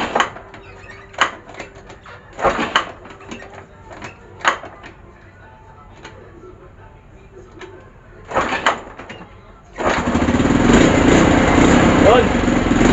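Super 8 KYMCO motorcycle with a new CDI being kick-started, several sharp kick strokes and sputtering tries, then the engine catches and settles into a loud steady idle, with a voice speaking over the early attempts.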